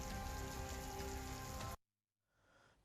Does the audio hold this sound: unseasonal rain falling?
yes